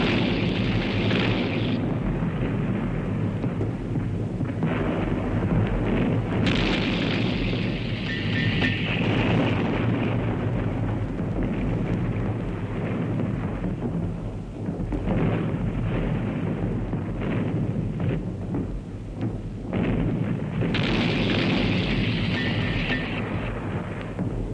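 Artillery bombardment of World War I Italian trenches and dugouts, a loud, continuous roar of rumbling explosions and dense shellfire, with heavier bursts swelling at intervals.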